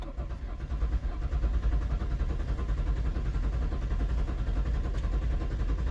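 A 4.0 SOHC Ford Explorer engine cranks with the throttle held wide open, trying to start. It gives a steady rhythmic churning that runs loud and unbroken for several seconds without catching.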